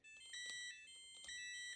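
A multimeter on continuity mode beeps while its probes touch a dishwasher float switch. The tone comes in short, fairly faint pulses, starting and stopping twice in quick succession.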